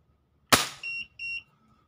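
A single sharp shot from a Crosman 1377 air pistol cracks loudly, then a chronograph-like electronic beeping follows in short bursts; no talking.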